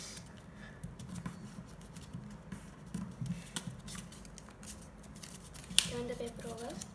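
Origami paper folded and creased by hand while making a walrus, giving soft, close rustling and scraping with brief crisp crinkles, heard faintly under a steady room hiss.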